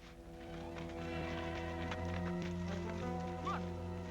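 Horses moving on an outdoor trail in a Western setting, hooves clip-clopping steadily at mid distance against a busy background with harness and tack sounds, mostly without talk.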